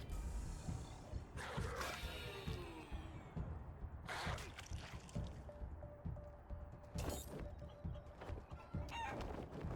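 Chicken clucks and crowing-like squawks from the game Wasteland 3 sound in bursts over a steady low game soundtrack, with sharp effect hits scattered between them.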